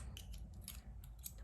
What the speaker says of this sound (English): we just get our cutting tool and we're going to cut off